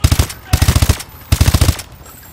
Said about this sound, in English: These guns are so powerful, it's insane.